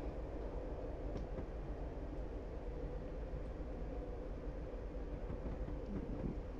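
Sprinter diesel multiple unit in Train Simulator Classic, South Wales route, running toward Bristol Temple Meads: a steady low rumble of the train rolling along with faint clicks, continuous and even throughout, no talk.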